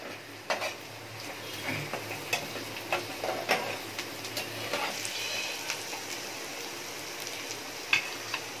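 Pieces frying in a pan until golden for a home-style chicken masala, with a steady sizzle and regular light clacks of a spatula stirring against the pan.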